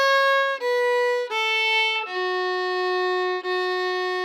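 Bowed fiddle notes step downward through a scale phrase, three short strokes followed by a long sustained low tone bowed twice, played alone and up close in a quiet room.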